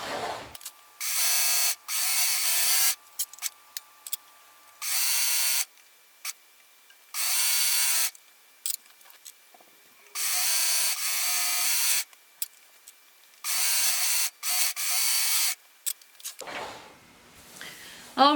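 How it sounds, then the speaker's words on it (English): A serger overlock machine sews the side seams of a skirt in repeated short bursts of loud, fast whirring, separated by quiet pauses, heard close with no talk. "I'm gonna start at the hem and serge up to the waistline, so I don't accidentally stretch anything out"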